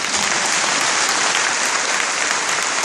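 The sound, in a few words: church congregation applauding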